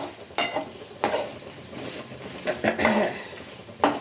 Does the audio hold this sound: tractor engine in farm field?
no